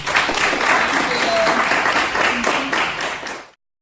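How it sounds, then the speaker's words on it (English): A studio audience on a business talk show applauds for two guests, a steady wash of many hands clapping close and loud for about three and a half seconds before cutting off abruptly. "Let's give Tisha and Crystal another round of applause."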